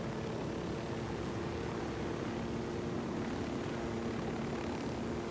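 A constant video game helicopter rotor and engine drone hums at low volume without pause, steady and unchanging throughout.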